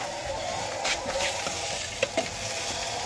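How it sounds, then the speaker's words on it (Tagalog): Sinangag, Filipino garlic fried rice, frying in a pan at home: a steady close sizzle with occasional stirring scrapes and a couple of sharper clinks, no talking. "Nagluluto pa si mama ng sinangag."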